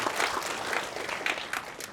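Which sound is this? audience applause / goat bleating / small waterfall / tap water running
audience applause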